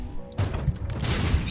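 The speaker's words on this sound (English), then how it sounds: "Explosions! They're everywhere!" Explosions from bombs in The Binding of Isaac, a couple of short bursts with crunching debris in quick succession over quieter game sound, without talk.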